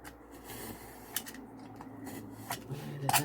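Scissors snip through a 12x12 sheet of card to trim the end pieces, giving a few short, crisp cuts close up in a quiet room.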